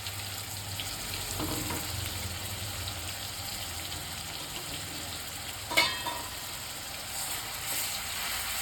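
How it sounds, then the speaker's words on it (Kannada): Ground cumin, green chili, coriander and coconut paste roasting in oil in a home kitchen pan, a soft continuous sizzle with one brief clank partway through. "ಇದು ಎಣ್ಣೆಲಿ ರೋಸ್ಟ್ ಮಾಡ್ಕೊಳ್ಳೋಣ"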